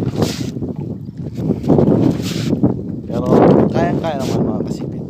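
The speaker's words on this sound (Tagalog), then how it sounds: "Medyo malakas lang po yung hangin." Strong wind buffets the microphone in gusts beside a fishpond while someone talks throughout, with faint water and paddling sounds from a small boat underneath.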